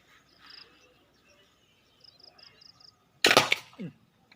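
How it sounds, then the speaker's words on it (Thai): A handmade spear gun with a solid padauk wooden stock fires once at targets and bottles, giving a sharp, loud crack followed by a short thud. Faint bird chirps are heard outdoors beforehand. "ยิงให้ดูกัน ยิงเป้ายิงขวดนะครับ"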